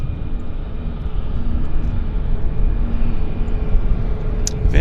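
A Central Mountain Air Dash 8-100 turboprop airliner passes at an airport, a steady broad engine roar holding for the whole stretch with a faint high whine near the end.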